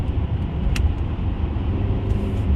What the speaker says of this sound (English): I can click it down into third. Say somebody wanted to do a 40 roll. I downshift to third.